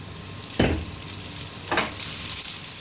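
Coriander vadi shallow-frying in oil in a pan, a steady close sizzle with two brief bursts of louder crackle as pieces are moved.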